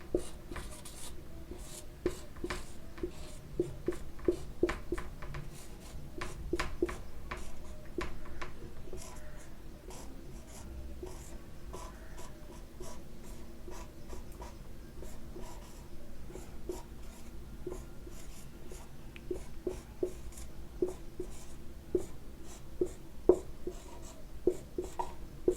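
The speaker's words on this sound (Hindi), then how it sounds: "तो सबसे पहले हम यहाँ पे लिख लेंगे" Pen or chalk writing by hand during a lesson makes quiet, irregular scratching strokes and taps with brief pauses between words, close and continuous.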